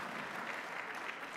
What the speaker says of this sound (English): Please, a round of applause for our great MC.